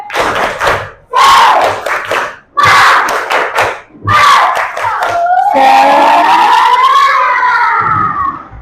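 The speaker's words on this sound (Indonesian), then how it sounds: "Tepuk semangat." A class of fifth-grade schoolchildren performs a spirit clap chant, loud rhythmic bursts of clapping and shouted voices in close succession, ending in a long drawn-out group cheer.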